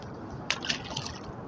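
A small fish lands with a brief wet splash in shallow river water at the Forks in Winnipeg, Manitoba, followed by a second softer slosh against a steady background wash of flowing water.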